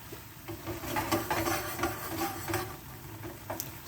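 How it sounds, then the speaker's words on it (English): Garlicky creamy pasta gets stirred in a hot pan with most of the water cooked off, a soft sizzle under repeated scraping strokes, close and continuous with no voices. "You can actually just start to stir it up."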